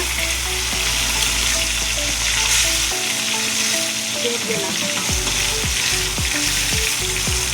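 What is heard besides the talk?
koi fish frying in a kadai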